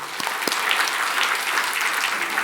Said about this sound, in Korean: 우리 애기들 박수 한번